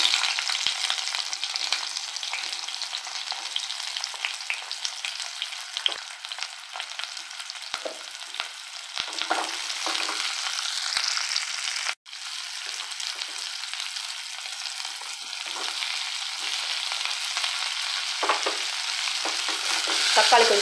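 Oil in a pan sizzles steadily with mustard seeds, cloves, cinnamon and onion frying, a continuous crackling hiss with occasional stirring scrapes and a brief break midway, no voices.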